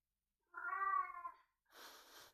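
A cat gives one drawn-out meow up close, followed by a short breathy hiss-like sound.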